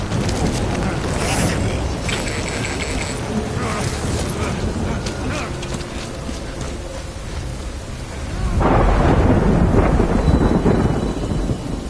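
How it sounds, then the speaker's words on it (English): Heavy rainstorm with thunder in the video game Death Stranding, a continuous roar of rain with rolling thunder that swells louder near the end, mechanical creaks mixed in, no one talking over it. "Good thing it was raining."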